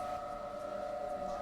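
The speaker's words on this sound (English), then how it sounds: "we're getting the all clear over here, the siren going off" An air raid siren sounds the all clear over Kuwait City in March 2003 as a steady, sustained wail that holds a constant pitch throughout, moderately loud against a noisy background.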